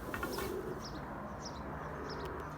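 Pigeons coo softly in a repeated rhythm against a constant hiss of background noise, the calls faint and somewhat distant, with no one talking.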